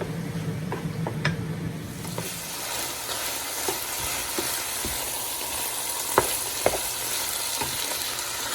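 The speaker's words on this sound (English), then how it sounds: "Saute everything for another 2 minutes." Lasagna filling sautéing in a pan, a steady sizzle and hiss with a few utensil scrapes and taps, the sizzle louder after a quieter stirring start.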